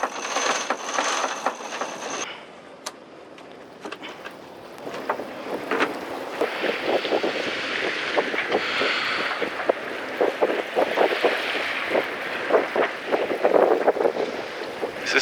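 Wind rushes past the microphone aboard a sailboat running north before a south wind, with water splashing and slapping against the hull and small creaks and clinks over the steady gusting.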